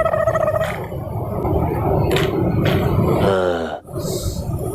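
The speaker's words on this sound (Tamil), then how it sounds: "என்னப்பா சொல்ல ஏப்பம் வந்துட்டே இருக்கு." Deep, drawn-out guttural burps come repeatedly and close up from a person after drinking liquid food, with rough throaty rumbles and a short pause near the end.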